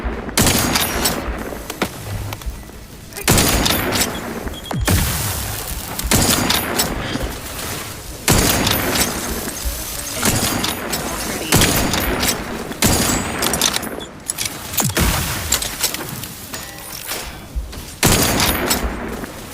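Sustained bursts of gunfire in The Outer Worlds 2 video game, loud repeated volleys of rapid shots separated by brief pauses, with a little voice line mixed in.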